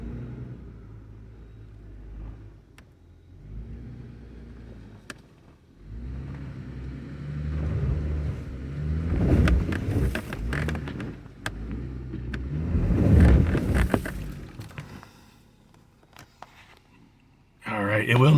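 A Jeep's engine labors and revs while trying to climb a steep dirt trail in two-wheel drive, the rumble swelling and fading in surges, loudest near the end, with talk over it.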